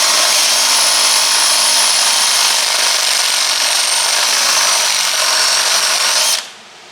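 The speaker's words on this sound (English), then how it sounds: "The drill bit doesn't want to hold in the drill, does it?" A power drill runs continuously, grinding into the steel frame of a 1973 K10 truck with a loud, steady high whine, then cuts off abruptly near the end.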